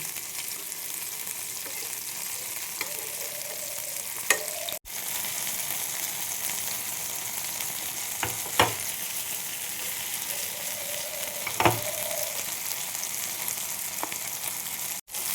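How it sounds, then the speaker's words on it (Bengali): Prawns sizzling in a pan for chilli prawns as each piece is flipped over; a steady close hiss of frying oil is broken by a few utensil taps and scrapes, with no speech. "এইভাবে সব চিংড়ি মাছগুলো আমি উল্টে দেবো"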